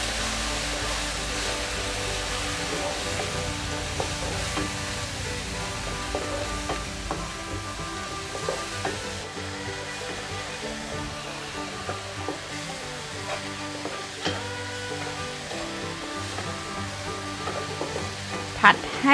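Chicken stir-fried with pounded curry paste in a hot pan gives a steady loud sizzle throughout, with occasional spatula scrapes and clinks and a faint voice now and then.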